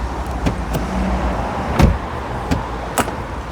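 The heavy door of a 2018 Volvo V40 thuds shut with a solid, muffled slam, followed by a few lighter clicks and knocks of the door and handle.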